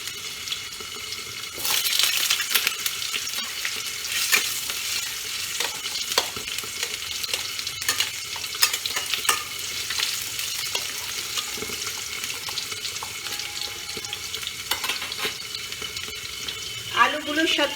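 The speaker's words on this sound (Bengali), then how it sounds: "দিয়ে আমি আলুগুলো দিয়ে দেবো।" Potatoes hit hot oil with nigella seeds and fry for a Bengali tangra fish curry, a steady close sizzle with bursts of crackling and scraping stirs throughout, with no talk.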